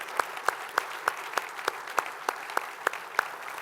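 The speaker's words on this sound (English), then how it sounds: "Give them a round of applause." Sparse, evenly spaced claps ring out at a sports conference panel session, a single pair of hands or a few people clapping in a steady rhythm, fairly faint in a quiet room.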